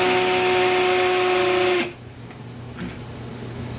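A high, steady whine of a power drill spinning a small metal pin against sandpaper runs for nearly two seconds, then cuts off abruptly, leaving quiet room noise and a faint clink.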